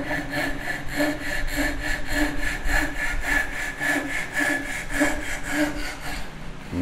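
A Ryoba compact Japanese pull saw cuts a wood tenon shoulder with steady, rhythmic rasping strokes, loud and close, repeating about three times per second without pause.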